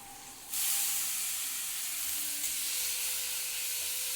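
Chopped ginger hits hot oil with garlic and onion, bursting into a loud, steady sizzle that starts abruptly and holds as a bright, continuous frying hiss, close and without talk.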